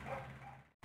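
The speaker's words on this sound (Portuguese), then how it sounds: "Parei aqui porque meus cachorros estão latindo." Dogs bark faintly in the background in a brief burst that cuts off abruptly near the end.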